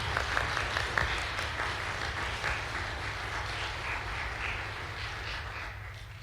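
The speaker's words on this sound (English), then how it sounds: "one more round of applause for that overture orchestra" An audience applauds a community orchestra's overture ensemble after a string performance, a steady wash of clapping that holds at a moderate level for several seconds and fades slightly toward the end.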